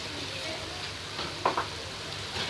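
Chicken pieces sizzle and fry in a hot pan, with a steady crackling hiss and a couple of sharper scraping bursts as they are stirred partway through.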